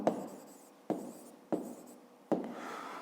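Handwriting on paper during a maths lesson, four scratchy pen strokes at close range, each starting sharply and trailing off, with no voice.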